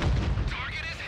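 A World of Tanks tank gun fires an armour-piercing round, a single loud booming blast with a rolling, ringing tail that fills the short moment.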